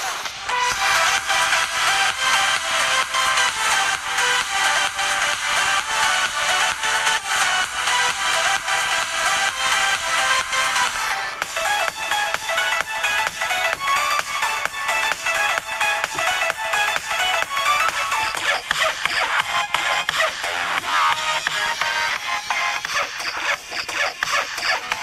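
Music plays continuously through Ghostek Rapture Bluetooth 4.1 wireless headphones with 40mm graphene drivers, a bright, dense mix with a steady pulsing beat at an even, constant level.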